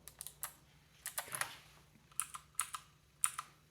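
Typing on a Battletron mechanical keyboard with blue switches: sharp, clicky keystrokes in short irregular bursts, close and fairly faint against a quiet room.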